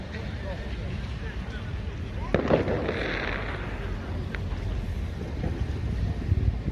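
New Year's Eve fireworks and firecrackers set off by crowds in Helsinki, Finland, heard as a steady outdoor rumble with wind noise and one sharper bang and crackle burst near the middle.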